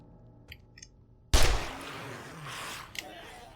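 An SMG firing in the video game 7 Days to Die: after a few faint clicks, one loud, sudden burst of gunfire bursts out and rings away into a fading rumble, with a smaller crack near the end.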